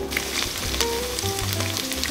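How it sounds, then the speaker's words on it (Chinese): Marinated shrimp balls frying in a generous pour of hot oil in a wok, a steady close sizzle with crackling pops throughout, no voices. "热锅多倒点油，放入腌制好的虾球"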